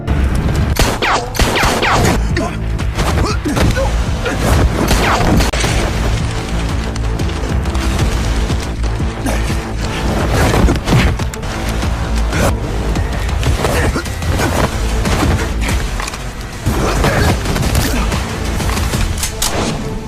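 Rapid bursts of gunfire trade back and forth in a loud, chaotic shootout, sharp cracks and crashes layered over a rumbling mechanical din throughout.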